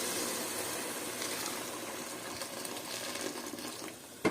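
Steady broadband rush of hot water pouring into a pot of rice for mutton keema biryani, continuous and fairly close, with a brief clatter near the end.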